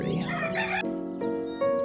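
A female turkey on a farm property gives a short run of harsh, rooster-like calls up close, alone with no talk.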